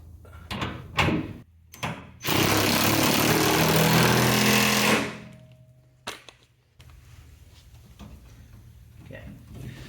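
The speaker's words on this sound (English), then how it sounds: "if you got one of these, this electric impact, use it." An electric impact wrench tightens the nut on a Bilstein monotube shock assembly for a Ram truck, a loud, close rattling burst of about three seconds, preceded by a few short clicks and followed by faint handling noises.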